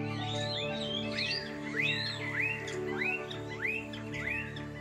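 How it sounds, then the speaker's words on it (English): Recorded bird calls played in a museum nature exhibit: a series of repeated, rising-and-falling whistled chirps, about eight in a row at a steady pace, clear and fairly close over a low continuous hum. "the bird you hear in the tree is the bird you hear as it would occur in nature"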